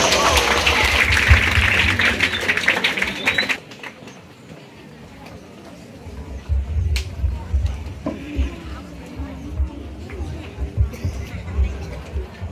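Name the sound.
audience applause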